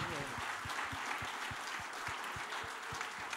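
An audience applauds after band members are introduced at a stage concert, with steady, dense clapping throughout and a few louder, distinct claps standing out under a speaking voice.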